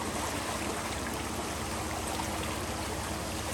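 Floodwater after Hurricane Ida rushes out from under the downstream side of a driveway bridge with debris stuck nearby, a steady, dense, close rushing flow without pause.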